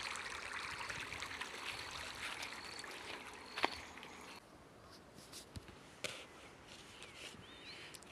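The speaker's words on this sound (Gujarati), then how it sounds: "પાણી એની રીતે વહી જશે" Water flows and trickles softly, faint and continuous, with a few light knocks and splashes scattered through.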